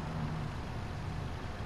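A simulated city bus engine idles in Bus Simulator, a low, steady motor rumble held at a constant level with no talking over it.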